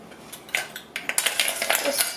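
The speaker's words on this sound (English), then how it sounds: "Probably add a few more ice cubes in there." Ice cubes drop one after another into a glass blender jar for a mango, banana and orange smoothie, giving a few sharp, bright clinks and clatters at close range.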